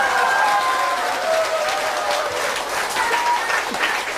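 Audience applause from a crowd at a political gathering, steady dense clapping that fills the whole stretch, loud and close.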